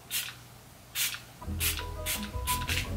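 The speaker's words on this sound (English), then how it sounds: "This is a matte finish prime and fine anti-shine fixing spray." Matte-finish anti-shine makeup fixing spray released in about five short, close hissing bursts, spaced fairly evenly, with light handling noise between them.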